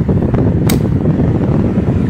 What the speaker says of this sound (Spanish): Se escucha como el ventilador acelera